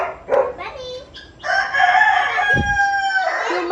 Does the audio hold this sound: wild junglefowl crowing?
yes